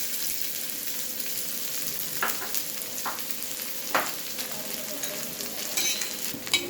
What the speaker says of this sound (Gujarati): આ ડુંગળીને તમારે થોડી ગોલ્ડન બ્રાઉન થાય ત્યાં સુધી સાતળી લેવાની છે